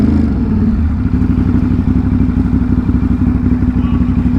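A motorcycle rides along somewhere in Queens, its engine a loud, steady mid-pitched drone with clattering and rumbling close to the microphone, and no talking over it.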